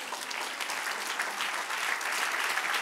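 A church congregation breaks into sustained applause during a sermon, a broad, even wash of many clapping hands, moderately loud and steady throughout.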